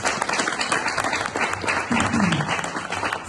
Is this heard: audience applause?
yes